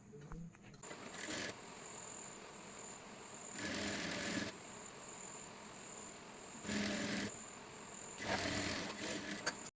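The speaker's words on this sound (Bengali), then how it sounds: "সেলাইটি দেওয়া হয়ে গেছে" Sewing machine stitching puff sleeve fabric in four short bursts of rapid whirring, with quiet pauses between them.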